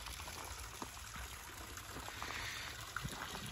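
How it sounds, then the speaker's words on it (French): Water trickles and splashes down a decorative waterfall in a Christmas light display with an ice-floe theme, a quiet, steady flow with a few small splashes. "vous entendez, je pense, en fond derrière l'eau qui coule. Hein. Donc, c'est la cascade que j'ai repris cette année"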